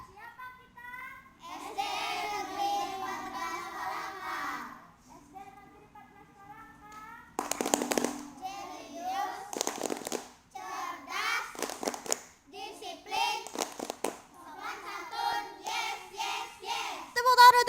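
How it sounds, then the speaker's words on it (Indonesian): Schoolchildren at SDN 14 Palangka Raya clapping in quick rhythmic bursts during a performance, their hands patterned in with a group chant sung by young voices before and after. "Tepuk tangan untuk kita semua, luar biasa."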